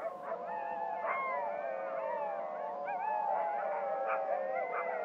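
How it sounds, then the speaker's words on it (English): Sled dogs in a Greenland village howl together at sunset, many overlapping voices rising and wavering in a sustained chorus at moderate distance. "all the dogs in the village howl as if to say goodnight"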